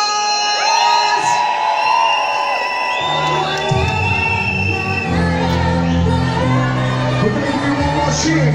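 A Clubland weekender after-party club crowd cheers, whoops and yells loudly and continuously, many voices shouting together with rising and falling pitches over a deep thumping backdrop.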